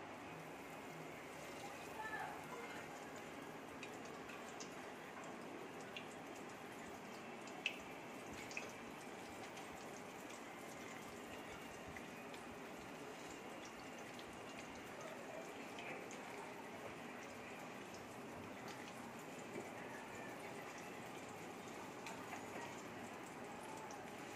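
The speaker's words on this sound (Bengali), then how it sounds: "তেল দেখো গরম হয়ে গেছে, এবার আমি তেলের মধ্যে ছেড়ে দিচ্ছি।" Jackfruit pieces fry in hot oil, giving a steady close sizzle with dense crackle throughout and a couple of brief sharper pops, with no talking.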